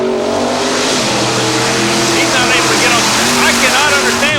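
A 355 cubic inch Chevrolet engine in a mud racing car, roaring loud and close with revving pitch changes that climb toward the end, a continuous throaty drone.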